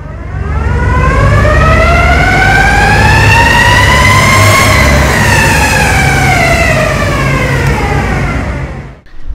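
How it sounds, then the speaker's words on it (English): Electric mountainboard with Moon gear drive motors whining loudly and steadily, a rising and falling high-pitched motor tone sweeping up then down across about nine seconds, close by and with no voices. "The sound this board sounds like an F1 car."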